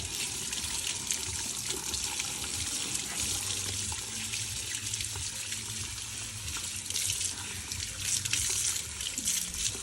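Water runs steadily from a tap as a mesh stencil is rinsed under it, a constant hissing splash with slight surges, moderately close and without talk.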